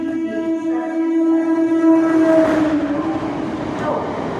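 A through train rolls past a station platform at Belghoria, a loud sustained rumble with strong tonal bands that builds near the middle as the carriages go by.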